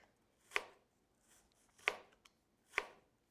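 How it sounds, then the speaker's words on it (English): A knife slices an apple into thin julienne strips on a cutting board, making three crisp, evenly spaced cuts that knock sharply against the board in a quiet setting. "I'm just going to slice as thinly as possible, tucking my fingers back"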